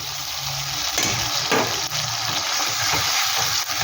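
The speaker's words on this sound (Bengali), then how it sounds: "এটা একটু ভালো করে আমি ভেজে নিচ্ছি" A paste of ginger, green chili, poppy seed and cashew fries in a pan, a steady loud sizzle with occasional stirring scrapes, close and continuous with no talk.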